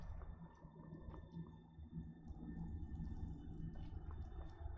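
Faint, scattered water drips fall in a quiet cave in Skyrim, small irregular plinks over a low, murky ambient hum with no voices.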